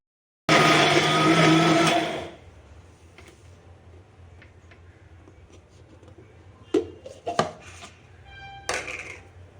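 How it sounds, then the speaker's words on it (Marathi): A mixer grinder grinding raw tomato chutney whirs loudly for about two seconds, then stops; scattered clinks and knocks of the jar follow in the quiet. "मिक्सरमध्ये अजून फिरून घ्यावं लागणार"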